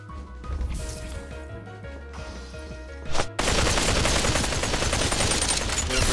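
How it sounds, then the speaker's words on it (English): Gunfire in the VR battle royale game Population One, with a run of sparse shots giving way after a sharp burst to dense, continuous automatic fire and loud chaotic combat. "Yeah, you just shot at me."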